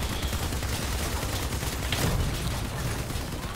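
Heavy booming gunfire rumbles continuously, a dense low roar of repeated blasts from a vehicle-mounted reduced-recoil cannon in the game Crossout.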